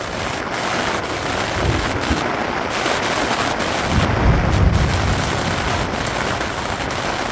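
Hail pelting down during an outback trip in the Ularring District, a dense, steady close-up clatter and hiss that swells slightly partway through, with no talking.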